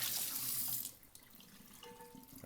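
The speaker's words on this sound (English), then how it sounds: "fill it up with some water" Tap water runs forcefully into a non-stick pan at a sink, then the flow eases off into quieter splashing and trickling.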